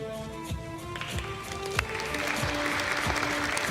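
House members in the chamber applauding Jamie Raskin, a broad, moderately distant patter of clapping with a few sharper claps standing out and a low steady hum underneath.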